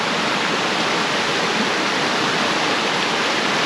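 A raging river tumbles and rushes over rocks, a loud, steady broadband roar of churning water filling the whole stretch without a break or voice.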